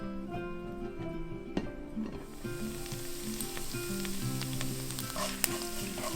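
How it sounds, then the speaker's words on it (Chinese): Ginger strips stir-frying in sesame oil in a wok, a close, steady sizzle with scattered crackles and a couple of sharp clinks from stirring, continuous throughout. "取一炒锅，倒入适量的香油， 放入姜丝炒香"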